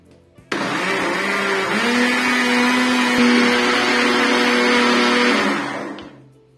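An electric blender beats milk and eggs with oil into carrot cake batter, its motor starting abruptly and holding a steady, loud whirring drone for about five seconds before spinning down.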